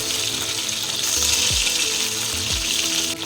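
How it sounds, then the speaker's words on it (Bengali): Parshe fish frying in a pan over a medium flame, a loud, continuous sizzle with a couple of low scraping knocks from the pan or utensil. "এখন মিডিয়াম ফ্লেমে মাছগুলোকে ভালো করে ভেজে নেব"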